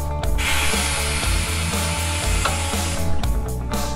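A Coats RC-45 tire changer breaking the bead of a 26-inch pickup tire from its rim: a loud, continuous mechanical whir with hissing and a rapid ratcheting, pulsing rhythm, swelling briefly near the end, with no talking.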